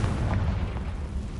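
A Confringo blasting spell goes off in a Wizarding World video game, a loud rumbling boom that swells and rolls on steadily without a break and with no talking.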